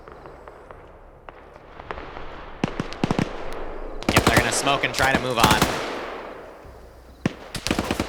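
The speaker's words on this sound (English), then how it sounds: "Hoping the retrieval teams know to follow the gunshots at this point." Gunfire crackles during a Blue Creed VIP rescue operation in a video game, with sharp bursts of rapid shots clustering in the middle and scattered single reports before and after, while a voice speaks briefly.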